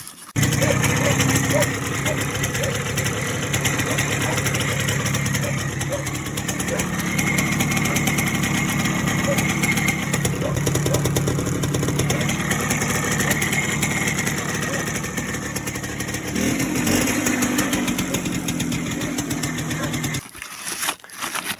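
A small Minsk motorcycle engine, bought second-hand from a breaker, runs steadily at close range, a continuous buzzing drone that holds for about twenty seconds before cutting off near the end.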